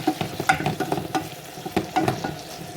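Tomatoes sauté with salt in a pan, giving a close, busy sizzle broken by repeated scraping and stirring strokes about twice a second. No one talks.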